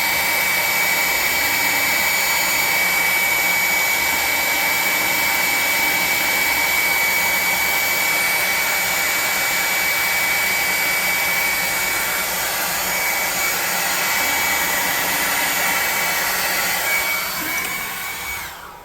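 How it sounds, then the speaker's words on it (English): A blow dryer runs continuously while being used to shape alien stalagmite terrain for a tabletop game, giving a loud, steady whooshing roar with a high whine that holds for the whole stretch and cuts off at the end. "my constant use of this blow dryer"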